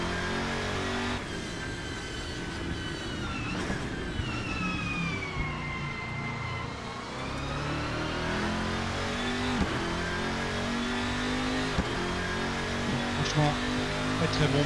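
An LMGT3 race car in a racing video game on its second lap, engine revving and shifting through rising and falling whines over steady road rumble, continuous throughout with a voice talking over it.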